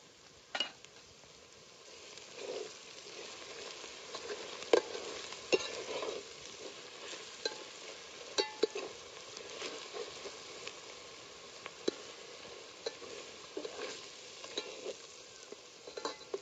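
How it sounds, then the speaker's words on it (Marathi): Turmeric and goda masala frying in hot oil for vajri dal, a soft continuous sizzle with scattered crackles and scraping stirs over about sixteen seconds, fairly quiet and close. "सगळं मसाला तळून घेतला."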